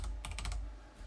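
Quick bursts of keystrokes on a computer keyboard, five or six rapid taps close up and quiet, with no voice over them.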